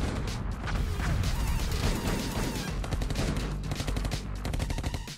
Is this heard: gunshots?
yes